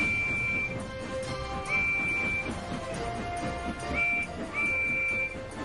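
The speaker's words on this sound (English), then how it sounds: "Percy's whistle is louder." Percy the small steam engine from Thomas & Friends sounds several thin, piercing whistle blasts in short bursts over a dense, busy background of music and rumbling.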